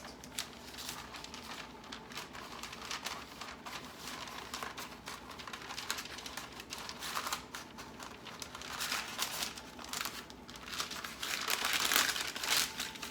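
Pizza crust dough being unrolled onto parchment paper, a soft continuous crinkling and rustling of the paper that grows busier toward the end, close and fairly quiet, with no talking.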